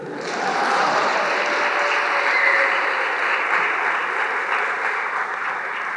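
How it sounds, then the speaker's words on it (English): Steady applause from a college commencement audience fills the whole stretch, a dense continuous wash of clapping at fairly high volume with no talk on top. "You could applaud it."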